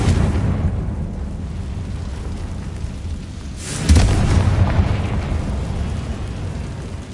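The Confringo fire spell exploding in the game Hogwarts Legacy: a dense, loud rumbling roar that swells into a heavier burst midway, then keeps booming under a continuous wash of debris-like noise.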